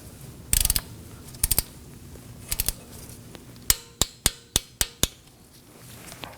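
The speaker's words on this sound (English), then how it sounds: "I'm going to make sure it's snug and torque this to 53 inch-pounds" Clicking from a torque wrench tightening a T30 screw on the front ABS wheel speed sensor of a 2018-2024 Chevrolet Equinox: a few clustered ratchet clicks, then a steady run of six sharp, evenly spaced clicks, close and clear.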